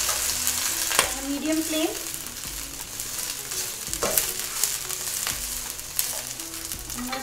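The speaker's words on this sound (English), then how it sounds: "So I'm just going to stir fry the broccoli first now" Broccoli stir-frying in a pan over a medium flame, a steady close sizzle broken by a few sharp spatula scrapes and clacks, with a brief spoken phrase partway through.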